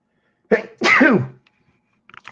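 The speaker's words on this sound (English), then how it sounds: "I have to sneeze." A single sneeze, a sharp inhale followed by a loud explosive burst, then quiet with a few faint clicks.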